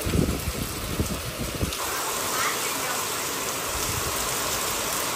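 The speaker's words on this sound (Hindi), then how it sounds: "अराउंड 2 बजे से खतरनाक बारिश स्टार्ट हो गई है, धुआंधार।" Heavy, continuous rain pours down in a dense, steady hiss, rougher and louder in the first couple of seconds before settling into an even wash.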